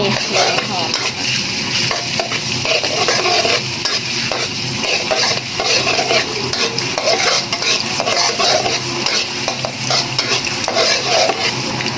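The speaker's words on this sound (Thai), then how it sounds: "น้ำมันแล้วก็ใส่กระเทียมเลย เจียวกระเทียมให้" Garlic fries in a small amount of oil in a pan for a Thai pumpkin and duck-egg stir-fry. A loud, steady sizzle runs throughout, with rhythmic stirring scrapes and faint clinks of a utensil against the pan.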